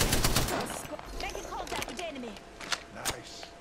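Gunfire in the video game Apex Legends: sharp bursts of shots and rapid automatic fire with scattered single cracks, mixed with game effects and heard under excited talking.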